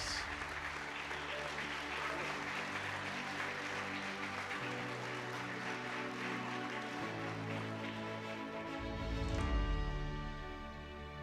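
An audience in a hall applauds the inaugural class of athlete inductees at a Brook Hill Hall of Honor ceremony: steady, dense clapping sustained throughout, joined near the end by a swell of music.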